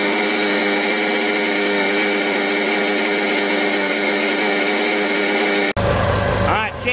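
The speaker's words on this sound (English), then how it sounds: "I'm going to crank it up, and then the volt should go up" An outboard motor runs after being cranked, a loud, steady buzzing engine drone held close for several seconds before a sudden cutoff into quieter background noise.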